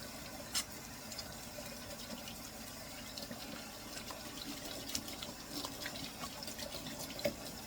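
A kitchen tap runs steadily while something is rinsed under it, water splashing softly and fairly close, with a few brief clinks and no talking.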